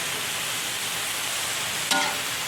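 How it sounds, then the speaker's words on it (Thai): Pickled mustard greens stir-fried with pork belly in a pan, giving a steady loud sizzle throughout with one brief scrape of the spatula near the end. "แล้วก็ผัดให้หอม"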